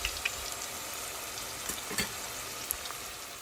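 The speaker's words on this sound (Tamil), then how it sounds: "கொஞ்சமாக வெண்டிக்காயை அப்படியே முழுசாக ஒரு கீறி போட்டு பொரிக்கிறேன்" Whole slit okra frying in oil in a cast-iron pan, a steady close sizzle with scattered sharp pops and crackles and no talking.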